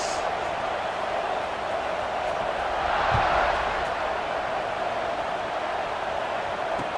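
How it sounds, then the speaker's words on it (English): Low, steady roar of a stadium crowd in a football video game, a dense buzzing wash that swells briefly midway and carries on evenly under commentary. "this crowd is buzzing after that last score"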